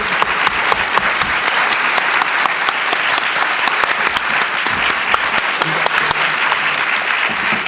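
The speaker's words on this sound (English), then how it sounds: "If we could give them a round of applause for sharing their personal stories." An audience at a panel event applauds the panelists, a dense, steady wash of many hands clapping that holds at full strength throughout without any talk over it.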